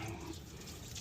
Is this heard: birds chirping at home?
no